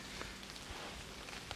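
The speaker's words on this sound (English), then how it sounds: "it just started pissing down with rain" Rain pours down at a fishing lake, a faint steady hiss of drops hitting surfaces, with no voices.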